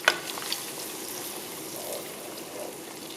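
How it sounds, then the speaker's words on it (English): A stick of butter cooks in a pan with a large clove of garlic and sage, browning with a soft, continuous, faint sizzle and a few small pops, close by and alone. "So the goal here is to get the butter brown."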